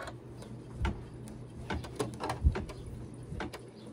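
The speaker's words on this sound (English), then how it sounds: "So now the last step is going to be the stitch all around." An embroidery machine stitches around a catnip-filled cat toy in a 4x4 hoop, giving a soft, steady stream of light ticking and tapping with quiet mechanical hum underneath.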